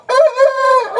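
A young rooster from a flock of Korean-breed January chicks crows once, loud and close, a single drawn-out call lasting about a second.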